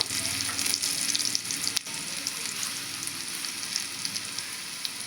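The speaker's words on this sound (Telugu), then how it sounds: "నేను పొట్టు తీసి పెట్టుకున్నాను కదా ఎల్లిపాయలు అవి వేస్తున్నాను" Steady, crackling sizzle of peeled, coarsely crushed garlic frying in hot oil, close and continuous, with a brief stir partway through.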